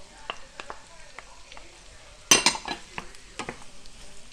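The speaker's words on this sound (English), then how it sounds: "And then we're going to add in celery and onions." Chopped celery and onions hit melted butter in a pan with a sharp burst of sizzle, followed by soft scraping and stirring clinks of a utensil against the pan, close and fairly quiet.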